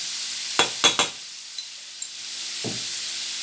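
Canned jackfruit and pork belly stirred in a frying pan, three quick close scraping clinks of a spatula followed by a quiet pause and one softer scrape, over a faint hiss.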